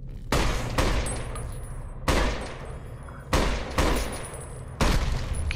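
Gunfire in the video game Fallout: New Vegas: five sharp, loud shots spaced about a second apart, each followed by a short decaying tail, with no talking.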